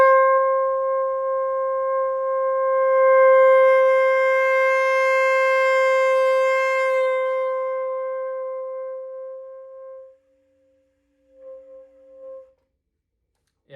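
A single high saxophone note is held steadily for about ten seconds, swelling gently in volume before cutting off, followed by two brief quieter notes, heard alone and close.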